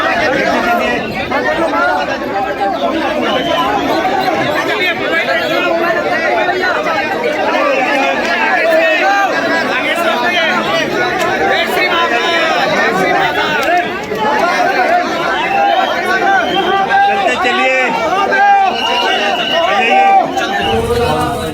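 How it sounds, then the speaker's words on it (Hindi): A large crowd packs a Bihar temple on Sawan Somwar during a stampede, and many voices merge into a loud, continuous hubbub of chatter and shouting. "अब देखिए इतनी भीड़ थी कि भगदड़ मची।"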